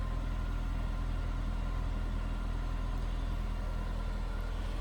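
A 2001 Honda S2000 convertible, stock, idles steadily from behind the car near its exhaust, a constant low engine hum with no voices.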